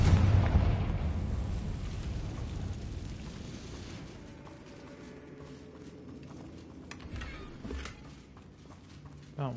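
The Confringo fire spell blasts in Hogwarts Legacy with a loud, deep burst at the start that rumbles and fades over several seconds into a quieter scene with faint scattered noises.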